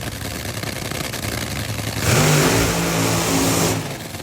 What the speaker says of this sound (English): It is the Monster Energy Top Fuel Dragster of Brittany Force.